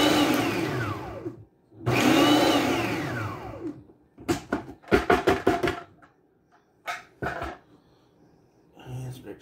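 A food processor pulsing onion with its lid on, several short whirring bursts of varying length separated by pauses, loud and close.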